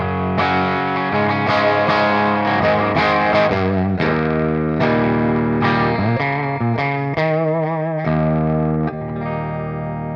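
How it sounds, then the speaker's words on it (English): A Kramer Voyager electric guitar, a signature model, played with overdrive distortion, with loud, sustained chords and bent notes in continuous phrases, close and alone. "That with a little bit of distortion, really overdrive."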